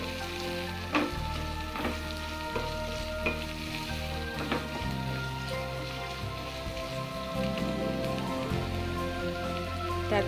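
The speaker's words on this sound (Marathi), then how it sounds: "आणि व्यवस्थित फ्राय करून घ्यायचं आहे" Boiled French beans and carrots frying in a pan, with a dense steady sizzle and crackle like rain and several sharp clinks of a spoon stirring, no voices present.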